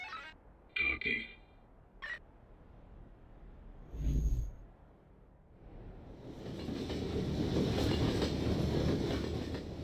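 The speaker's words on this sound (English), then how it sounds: "This is a train with the infected." A train rolls past in an animated show's scene, a broad rumbling roar that builds over the last few seconds and holds steady. Brief voices and sharp noises come before it.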